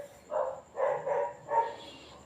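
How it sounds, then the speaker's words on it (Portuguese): Dogs barking in the distance during a live online math class, a few muffled barks at a moderate level with no speech over them. "Lá vem os cachorros para participar da live"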